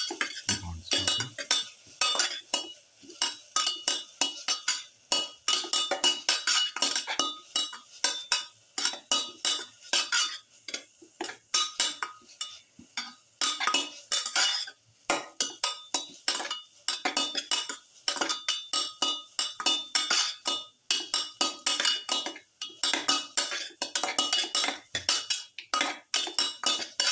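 Chicken with pepper, ginger and garlic being stirred in a pan: a spatula repeatedly scrapes and clinks against the metal in quick, uneven strokes, close and fairly loud, with brief pauses and no voices.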